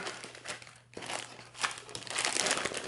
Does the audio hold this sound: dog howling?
no